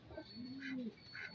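Racing pigeons coo close by, a soft low rolling coo rising and falling once, with faint chirps and scattered background sounds around it.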